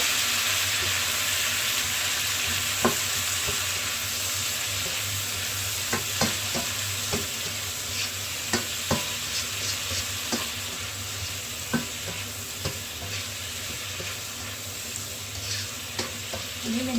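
Shrimp stir-frying with garlic in oil for Thai shrimp in chili paste, a constant bright sizzle with repeated sharp scrapes and taps of a spatula stirring in the pan, close and fairly loud.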